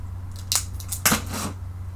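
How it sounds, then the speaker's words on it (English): An X-Acto knife slicing open a sheet of linoleum for relief printing gives two short, sharp cuts about half a second apart, close and crisp, with no talking. "Okay, so now I have my X-Acto knife and my linoleum. I'm going to cut it open."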